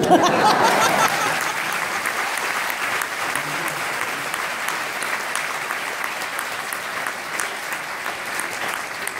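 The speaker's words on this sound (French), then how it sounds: "applaudissements" At a graduation ceremony, the audience applauds steadily for several seconds. The clapping swells at the start, then holds as an even, dense ovation filling the hall.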